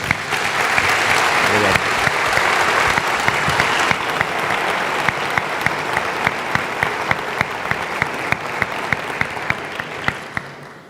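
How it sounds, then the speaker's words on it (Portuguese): Warm congregational applause at an evening church gathering, a steady wash of many hands clapping that thins toward the end into a few sharp, rhythmic claps before stopping. "com uma salva de palmas, não é verdade?"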